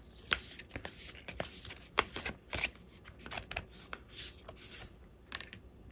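Tarot cards are shuffled and drawn by hand during a fortune-telling reading, giving a close, continuous rustle of riffling and sliding cards with crisp snaps and flicks.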